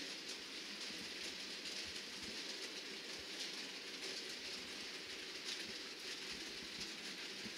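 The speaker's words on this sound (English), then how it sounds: "pulled by Ludmilla, class 232 heavy diesel. It's just passing through the Eindhoven area now" A model freight train pulled by a class 232 heavy diesel locomotive runs through a Rhineland layout, giving a steady, faint rolling clatter with continuous hiss and no talk.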